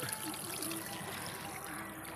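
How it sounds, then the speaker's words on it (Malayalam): A faint, steady trickle of water flows out of an opened outlet, soft and continuous throughout. "വെള്ളം ഒഴുകി അങ്ങ് പൊക്കോളും."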